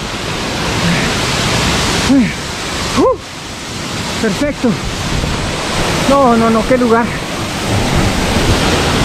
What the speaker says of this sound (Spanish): Vamos a llegar aquí a la cascada.